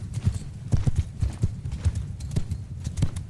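Cavalry horses gallop in Mount & Blade 2 Bannerlord, heavy rhythmic hoofbeats thudding near and loud in uneven clusters throughout, with no voices heard.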